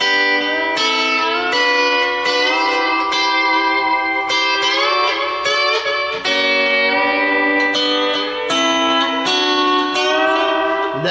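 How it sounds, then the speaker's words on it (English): Lap steel guitar picked by skipping strings between the 1st and 3rd strings, producing loud, gliding, rhythmic phrases with a slightly darker tone, played continuously and alone. "go and skip strings and go the 1st string and the 3rd string, and it'll sound like this."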